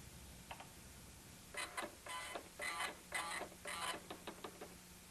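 A dot matrix printer attached to an Apple IIe prints a file listing, a series of about five quiet buzzing bursts of print-head chatter separated by short gaps, with faint ticks before and after.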